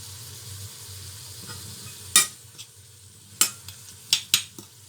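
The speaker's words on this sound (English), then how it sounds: "I'm allowing that to fry for a little while" Tomatoes, onions, garlic and red chilies fry quietly in a pan under a low steady sizzle, with several sharp metallic clacks and scrapes of a utensil against the pan in the second half.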